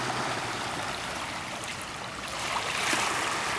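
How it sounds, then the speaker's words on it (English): Tsunami water surging along the shore at Kihei, Maui, a steady broad wash of rushing water that swells slightly toward the end, continuous and fairly loud with no voices. "that was a tsunami actually hitting the island of Maui, here in Kihei"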